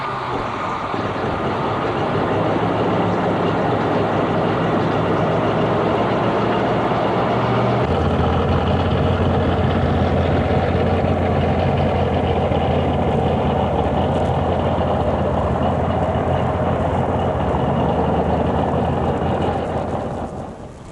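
A 1971 Plymouth Hemicuda hardtop's 426 Hemi engine idles with a loud, continuous deep rumble for about twenty seconds, its low tone shifting slightly partway through, with no talk.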